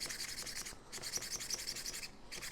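Wet and dry abrasive paper rubbing a brass axle as it turns, a close, steady rhythmic scratching with repeated strokes and a short pause near the middle.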